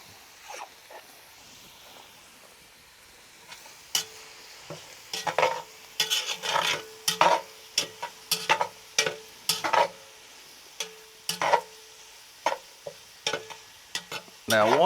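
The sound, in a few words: onions frying and being stirred in a pan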